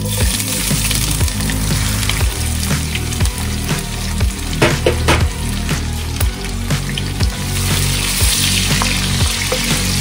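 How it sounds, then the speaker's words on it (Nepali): Steady crackling sizzle of garlic and ginger frying in hot oil, with occasional clinks and scrapes of stirring, close and fairly loud throughout. "यसमा म अघि नै काटेर राखेको यो लसुन र अदुवा फुराउँदैछु"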